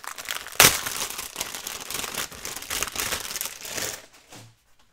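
Fragile gold leaf paper crinkles and crackles as it is unwrapped close by, starting with one sharp rustle, then a steady run of crumpling that fades out near the end.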